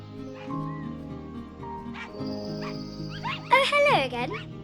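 Rufus, a dog in a video game, gives a short run of yips and whimpers near the end over soft ambient game music.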